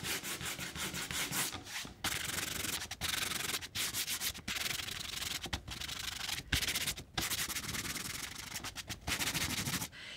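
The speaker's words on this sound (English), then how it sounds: "And now we sand." A sanding block rubs back and forth over painted MDF in repeated rough, scratchy strokes, close and fairly loud, with brief pauses between bursts.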